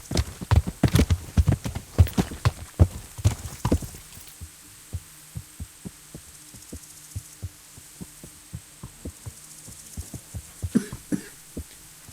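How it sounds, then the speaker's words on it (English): A horse's hooves clip-clop in the video game Kingdom Come Deliverance, a rapid run of loud hoofbeats at first that slows to a steady, fainter walking rhythm over a low hum. "I'm going to sit here and watch him ride his horse."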